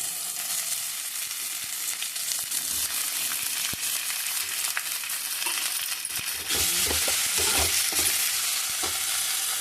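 Onions fry in a pan for a tomato bath breakfast, giving a steady sizzle throughout. A spoon clinks and scrapes as it stirs, and the frying grows a little louder toward the end.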